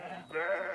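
Sheep bleating in a large mountain flock near Tashkent, Uzbekistan; one close, wavering bleat stands out over faint background noise.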